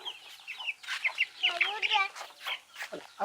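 Several chickens cluck in short, rising calls, with a few quick high notes mixed in, close by and fairly steady throughout.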